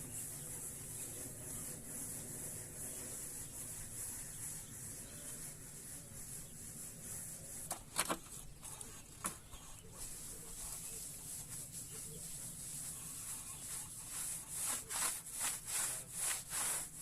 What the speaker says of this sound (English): basically just like sand and cement finish. And the sponge takes out all the imperfections in the surface.